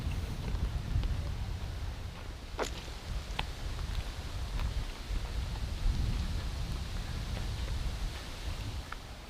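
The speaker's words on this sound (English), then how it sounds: "And we're in the northeasterly breeze here." A northeasterly breeze blows across Tomaree headland in early September, a continuous low rumbling gust with a few faint clicks and crackles over it.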